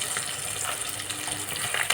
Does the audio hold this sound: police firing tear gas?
no